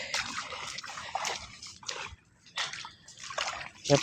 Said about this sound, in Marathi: पाण्यातून पार व्हायला लागतं